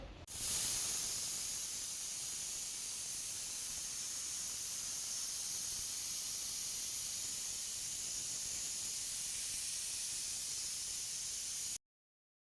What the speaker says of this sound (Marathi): कुकरचं झाकण लावून मस्त एक 5-6 शिट्या काढून घ्यायच्या आहेत